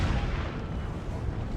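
Cannon fire in an Empire: Total War battle as Great Britain, a dense, continuous low rumble of booming artillery with no clear pauses and no voices.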